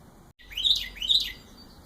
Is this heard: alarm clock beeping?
no